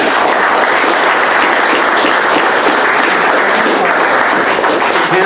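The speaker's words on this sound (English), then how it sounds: "I'm going to ask right now for a big round of applause for resisting the pressure" A big round of applause from an audience at a talk event, a dense, loud, continuous roar of clapping that holds steady throughout.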